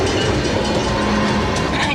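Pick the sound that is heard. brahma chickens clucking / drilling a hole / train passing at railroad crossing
train passing at railroad crossing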